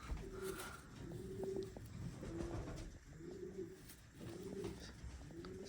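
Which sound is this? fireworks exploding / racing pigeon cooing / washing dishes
racing pigeon cooing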